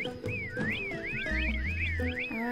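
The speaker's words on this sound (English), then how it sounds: "I'm just gonna try whistling for him, I guess." The player character in The Last Tinker: City of Colors whistles for Bomber, a wavering, looping series of rising and falling whistled notes over game music, heard alone without talk.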